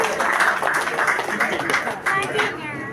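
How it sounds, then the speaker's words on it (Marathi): An audience claps at a Shivotsav celebration, a brief burst of rhythmic clapping under a voice speaking over a sound system. "एकदा जोरदार टाळ्या भाऊसाठी."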